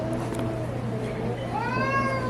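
Upset house cat meowing at home, a drawn-out rising meow near the end over a steady background hum.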